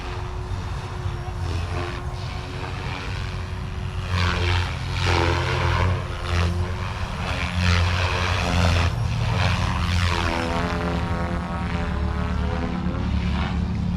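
A small model helicopter's rotor whines steadily and loudly throughout, its pitch rising and falling as the speed changes.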